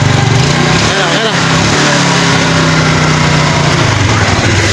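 A Yamaha Mio Sporty scooter engine, freshly started after a hard-starting fault with a weak battery, runs loud and steady at idle right up close, its buzzing drone continuous throughout.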